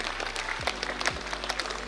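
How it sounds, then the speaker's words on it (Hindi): An audience claps for a student at a prize ceremony marking National Mathematics Day at Gyan Bhawan, Patna. The steady crowd applause sounds fairly faint and distant over a low electrical hum. "जोरदार तालियां इनके लिए"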